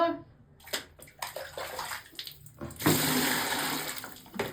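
Hot water splashing and pouring for a bath, in bursts then a steady stream, with voices talking over it.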